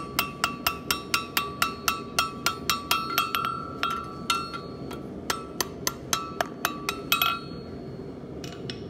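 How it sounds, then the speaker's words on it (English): Hammer blows strike hot metal on an anvil while a heart pendant is hand forged, a steady run of sharp, ringing metallic strikes at close range, then a looser, slower series of hits after a short gap. "my blows are always directly across from my anvil"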